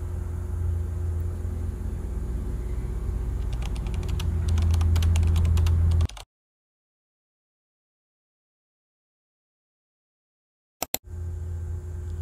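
Typing on a computer keyboard while entering the last four digits of a GCash card number, with a steady low hum under the keys; the sound then cuts to silence before resuming briefly.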